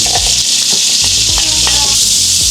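Garlic frying in butter and oil in a pan for Filipino beef caldereta, giving a steady, loud, close sizzle throughout with faint stirring scrapes.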